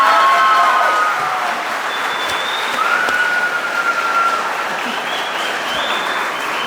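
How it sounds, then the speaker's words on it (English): A crowd at a school stepping-up ceremony breaks into loud, sustained applause, a dense wash of clapping with faint cheering tones, holding steady throughout. "Let's give her another round of applause, everyone"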